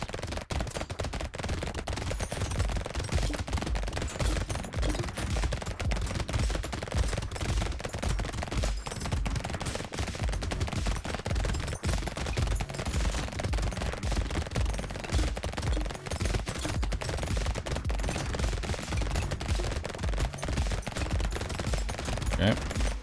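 SMGs firing nonstop in the video game Brotato, a dense stream of rapid, crackling shots at steady loudness throughout, with a voice talking intermittently over the gunfire.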